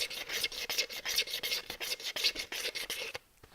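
A ruler scrapes out a cup in quick, repeated rasping strokes, close and fairly quiet, with short pauses between strokes. The scraping stops just before the end.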